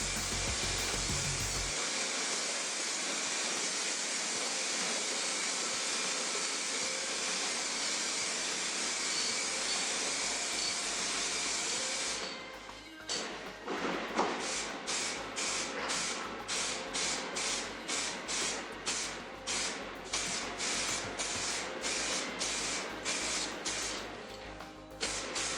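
A spray gun lays primer onto a Samick guitar body in a long steady hiss that stops after about twelve seconds, followed by a series of short repeated sprays and clicks, close and loud.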